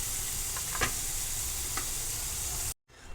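Paneer roasting in a pan sizzles steadily and close, with a few soft clicks of stirring, before cutting out abruptly near the end.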